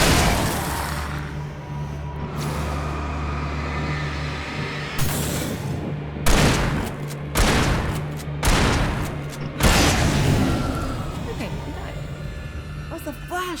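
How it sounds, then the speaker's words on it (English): Flashbang grenade blasts in the game Alan Wake Remastered, several sharp bursts spaced a second or two apart over a steady low game hum, with a voice talking in places. "The flashbang, man."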